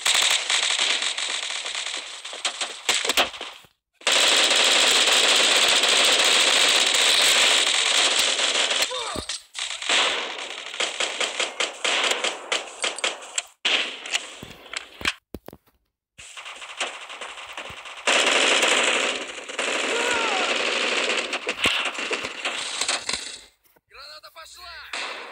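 Rapid bursts of automatic and pistol gunfire in the shooter game Bullet Force, loud crackling volleys broken by short silences, with a voice speaking at times.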